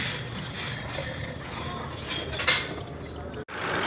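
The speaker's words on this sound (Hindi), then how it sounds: "ये देखिए पानी आना शुरू हो गया है यहाँ से, और ये एयर निकल रही है" Water rushes and splashes from a Ford EcoSport 1.5 petrol coolant hose in a steady hiss, close by, with air escaping, a brief gurgle midway and a short cut near the end.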